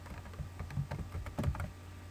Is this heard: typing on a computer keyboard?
yes